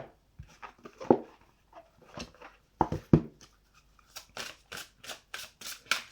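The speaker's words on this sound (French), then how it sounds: "Je vais prendre 3 cartes." Oracle cards being drawn from a deck, giving soft papery rustles and taps that end in a run of crisp, evenly spaced card slides, close and quiet, with no talking.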